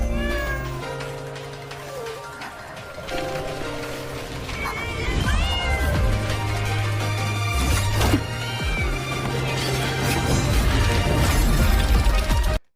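A cat meows repeatedly in a game's convene animation for the character Chisa, loud and close over music and sound effects, ending abruptly.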